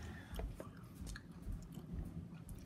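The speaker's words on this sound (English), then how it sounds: "I'm not done chewing" Close, quiet chewing of a Land Mine hot peanut butter cup, with soft wet squishing and occasional crunchy bites in an irregular rhythm, and no talking.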